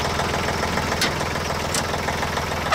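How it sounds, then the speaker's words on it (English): A tractor engine runs steadily at idle close by, a low, even rumble with a rhythmic knocking pulse throughout and no voices. "I'll just leave it run all day. It's a good running tractor."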